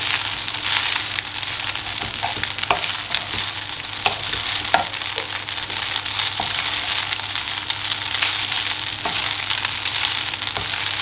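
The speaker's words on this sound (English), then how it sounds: "I'm also going to add at the same time the chicken that we've already browned a little bit." Browned chicken pieces fry in a pan with a continuous loud sizzle and crackle, punctuated by occasional stirring clicks, with no talking.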